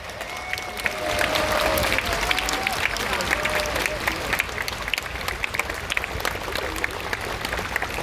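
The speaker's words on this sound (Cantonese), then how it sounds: "希望大家俾啲掌聲，我哋前線嘅抗爭者先。" A large outdoor rally crowd in Victoria Park applauds frontline protesters: continuous massed clapping with scattered shouts and whistles, lasting the whole stretch at steady strength, distant cheering voices blending in.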